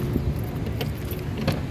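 Car keys jangle in short metallic bursts at close range beside a 2010 Toyota Avanza 1.3 G manual, over a steady low background hum.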